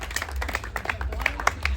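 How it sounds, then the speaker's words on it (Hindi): Audience clapping at a retirement farewell gathering, quick uneven claps from a small group over a low background hum, moderately loud and close. "तालियां जोरदार।"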